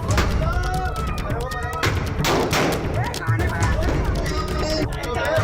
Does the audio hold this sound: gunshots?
yes